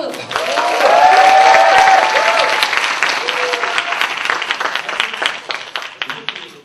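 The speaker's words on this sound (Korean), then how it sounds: "다시 한번 박수." Applause from a Korean music-show audience erupts loud and dense, peaks early, then thins out gradually. A voice runs underneath the clapping.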